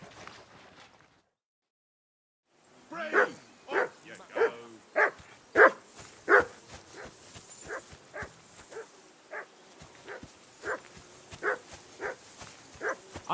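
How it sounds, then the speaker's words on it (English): A dog barking in the medieval game Kingdom Come: Deliverance 2 at a riverbank camp, a long steady series of repeated barks, fairly near, at first sharp and loud, then weaker and more even. "I assume you can hear that damn dog of yours barking."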